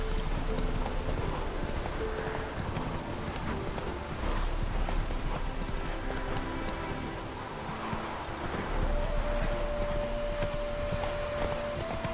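The horse Roach gallops in The Witcher 3 video game, with quick rhythmic hoof clip-clops pounding steadily under a constant hiss of rain and background game ambience.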